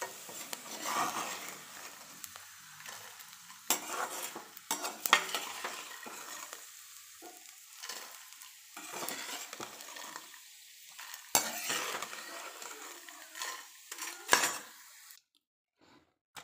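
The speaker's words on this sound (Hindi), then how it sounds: "ये गरम हो गया हमारा, गोंद डालते हैं" Edible gum (gond) fries in hot pure ghee in a pan for chikki with jaggery, crackling and sizzling steadily while a spoon stirs and scrapes in irregular bursts, close and fairly loud, with no talking.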